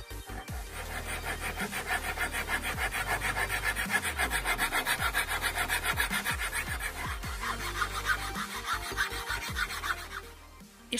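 Hand files sharpening the blades of handmade dagger-style knives: close, rhythmic rasping strokes repeated steadily for about ten seconds, with no talking.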